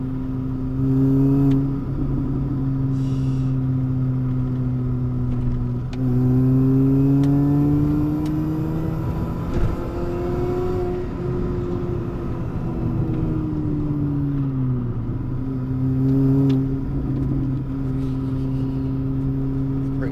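A Mini Cooper S engine heard from inside the moving car, a steady droning hum whose pitch climbs and falls as it revs through the gears, loud and close throughout.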